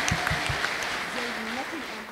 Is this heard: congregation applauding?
yes